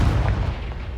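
A Confringo explosion spell from Hogwarts Legacy bursts as a dense, heavy boom with rumbling low energy that stays loud and sustained through its short length, with no talk.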